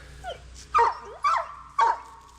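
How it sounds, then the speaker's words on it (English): A dog on a farm with grapevines gives three sharp, close barks in quick succession, each mixed with a whiny, whimpering yelp, between soft quieter moments. "And the dog wants to get in on it."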